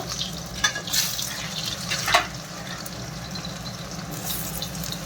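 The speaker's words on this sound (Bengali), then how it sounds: "সিদ্ধ আলুগুলো সবগুলো দিয়ে একটু ভেজে নেব।" Boiled potatoes fry in hot oil with a steady, close sizzle and crackle. A couple of brief scraping stirs of a spoon rise above it, and no one speaks.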